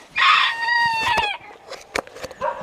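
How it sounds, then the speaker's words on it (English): A rooster on a farm lets out a loud, close crow with a drawn-out wavering call, followed by a few short clucks and scattered clicks as it trails off. "Oh, chickens!"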